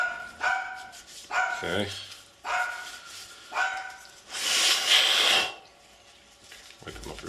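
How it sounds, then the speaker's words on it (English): A dog barks repeatedly in the background, in several sharp bursts, while someone talks nearby during the cleaning of a chrome and titanium gold Desert Eagle pistol. "that's why my dog in the background's barking"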